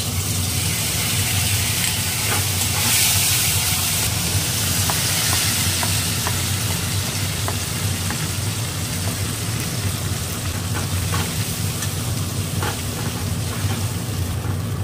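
A pea filling with paste fries in hot oil and is stirred in the pan. It gives a loud, continuous sizzle with faint scraping taps from the stirring, under a steady hum from a kitchen chimney fan.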